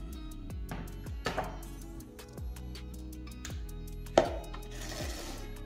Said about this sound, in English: So the Instant Pot finished cooking, and now I'm just going to take the top off.